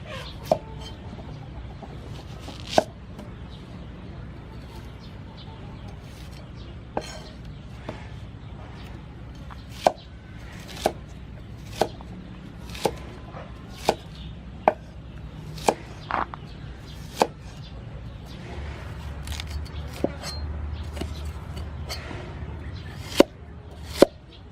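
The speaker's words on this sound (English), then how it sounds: "Cut onion." Knife chopping onion for a mussel curry, sharp regular cuts on a board repeating at a steady pace over low room hum and faint background noise.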